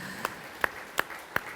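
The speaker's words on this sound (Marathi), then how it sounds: "तेव्हा या पिढीसाठी एकदा जोरदार टाळ्या वाजवूया." At an award ceremony, a few sharp, evenly spaced hand claps ring out, four distinct claps in under two seconds, moderately loud with no other sound between them.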